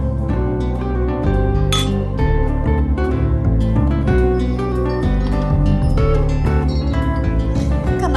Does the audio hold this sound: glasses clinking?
yes